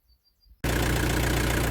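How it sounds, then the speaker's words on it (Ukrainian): After a brief near-silence, a tractor engine suddenly kicks in and settles into a loud, steady, low idling rumble close by. "Завів трактор"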